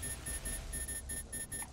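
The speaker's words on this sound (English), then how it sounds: "What is that beeping noise?" A faint, constant beeping in the video game Borderlands 2, a quick regular electronic beep pattern repeating steadily like an alarm clock, with no talking over it.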